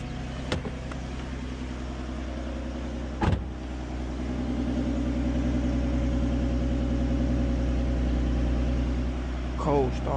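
A 2014 Mustang with a 3.7L V6 catches on a cold start and settles into a loud, steady high idle rumble that continues alone, with a voice speaking briefly at the start.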